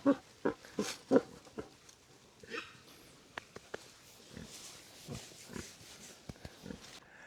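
Heritage pigs grunting and oinking nearby in a forest paddock in short irregular bursts, several animals snorting and squealing with quieter snuffling between calls.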